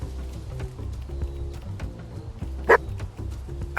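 A single sharp dog bark in the video game Squirreled Away, brief and fairly close, rising out of a low game ambience with music-like tones.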